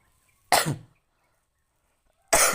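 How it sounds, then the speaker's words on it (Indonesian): Two separate coughs from a speaker delivering a talk on physical and mental health in the digital era, each a sharp broadband burst, the second cut off at the end, with silence between them. "maaf batuk ya"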